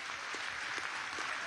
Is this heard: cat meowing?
no